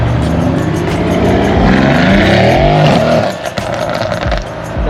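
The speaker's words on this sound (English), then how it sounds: "Oh, C63 is leaving." A Mercedes C63 pulls away from a nighttime car meet, its engine rumbling and rising loudly close by before the sound drops off as it leaves.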